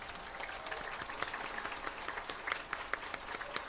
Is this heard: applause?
yes